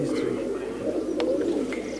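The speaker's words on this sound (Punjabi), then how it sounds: "ਅਤੇ ਨਾਲ ਹੀ ਇੱਕ ਦੂਜਾ ਕਬੂਤਰ ਹੋਰ ਤੁਹਾਡੇ ਹੱਥ ਦੇ ਵਿੱਚ ਹੈ" A pigeon with white eyes, held in the hand at a Punjabi pigeon-keeping gathering, gives a low, steady purring coo that runs close and continuous for about two seconds.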